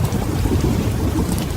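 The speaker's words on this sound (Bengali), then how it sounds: "হঠাৎ বাতাসের ঝাপটায় পুরো গ্রাম ঝড়ের কবলের মুখোমুখি।" A thunderstorm with heavy rain and gusting wind, a dense, loud roar of downpour with deep low rumbling that fills the whole stretch without a break.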